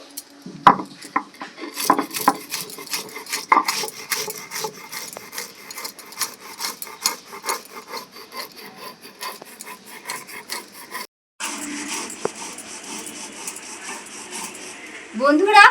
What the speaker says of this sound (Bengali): মশলাটা আমি সব একসাথে বেটে নিচ্ছি